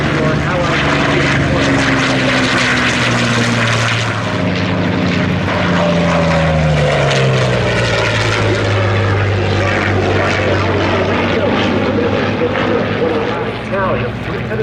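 A WWII warbird fighter with a 1,600 hp radial engine roars past loudly and steadily, its pitch sliding downward through the flyby, with a voice talking over the engine noise.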